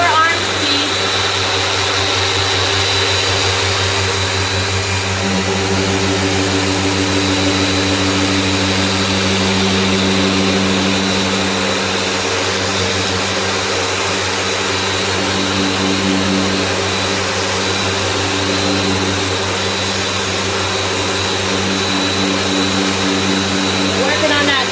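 A car paint polisher running on a painted panel at light pressure, a loud, steady whirring motor drone with a faint shift in tone partway through, continuous and close for the whole stretch, no talking.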